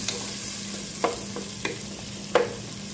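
Chicken seasoned with salt and pepper sizzles in a pan of sautéed onions, a steady close frying hiss broken by a few sharp utensil scrapes and taps, with no talking.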